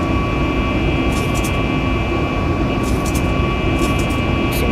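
Steady, loud jet engine roar from a Boeing 737 Max 8 climbing out with flaps up in the X-Plane 12 flight simulator, a constant broadband drone with a few brief higher hisses on top.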